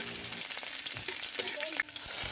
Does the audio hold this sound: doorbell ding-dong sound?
no